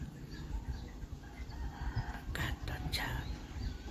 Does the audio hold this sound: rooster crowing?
yes